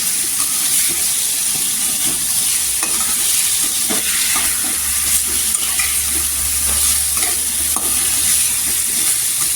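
A spoon stirs potatoes and dal in a hot pan, scraping and clinking irregularly over a constant loud sizzle and hiss.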